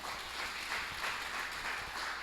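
Steady applause from a church congregation during a worship service, a continuous wash of clapping with no voices, holding at an even level throughout.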